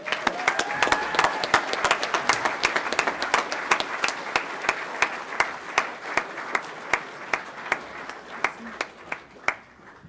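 Steady applause from an audience at a speedway awards ceremony, many hands clapping densely, with a few louder individual claps standing out as it gradually thins toward the end.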